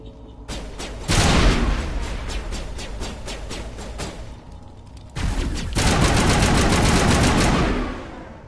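Rapid automatic weapon fire from the Mass Effect video game, two loud sustained bursts of close crackling shots separated by a brief lull, with no talk over them.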